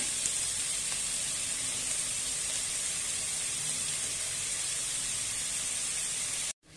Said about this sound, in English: Now we have to fry the onion till it is just soft and translucent